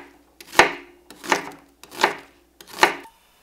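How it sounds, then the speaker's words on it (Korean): A knife chops green onion and onion on a wooden cutting board: four distinct, evenly spaced sharp thuds, close and clear, with no talking. "대파는 길고 굵게 썰어내고, 양파는 적당한 굵기로 채썬다"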